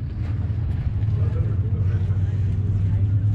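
A small block Ford V8 in a sand rail rumbles with a deep, steady low growl at moderate distance, running continuously while people talk nearby.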